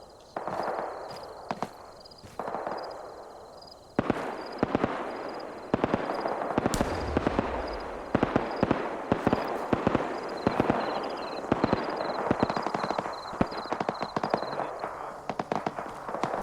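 Artillery high-explosive rounds from a video game, part of a fire mission, bursting in a loud rapid string of sharp cracks and booms over a steady battlefield rumble, with the impacts crowding closer together as the barrage goes on.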